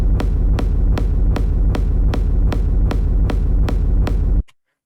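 A synthesized kick drum with its full tail repeats in a loud, steady beat, about a dozen booming hits with a deep low rumble between them, then cuts off abruptly into silence.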